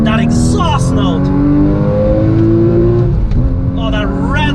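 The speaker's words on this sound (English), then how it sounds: "Let's open it up. That exhaust note." A loud 2016 Porsche Cayman GTS exhaust roars as the engine climbs through the gears, rising tones broken by quick shifts, with a voice speaking over it.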